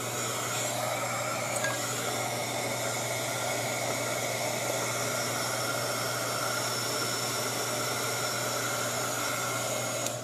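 A hair dryer blows on a watercolor painting to dry it, a steady, even whooshing hum with a low motor tone that holds constant from start to finish.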